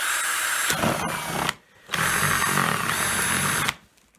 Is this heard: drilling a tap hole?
yes